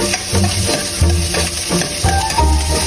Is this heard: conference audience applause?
no